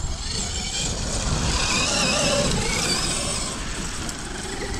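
Traxxas XRT RC monster truck, running on one loose tyre and a stiffened front diff, drives over a bump, its motor whine and tyre rumble loud and steady throughout, with no talk.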